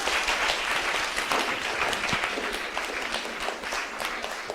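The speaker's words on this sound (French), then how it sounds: "Applaudissez s'il vous plaît." Applause from a class of students in a secondary school chemistry lesson, steady broadband clapping that holds for the whole stretch at a fairly loud, even level with no talk over it.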